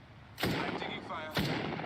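Incoming gunfire striking the player in Apex Legends, two sharp impact bursts about a second apart over a low game backdrop with a voice faintly present.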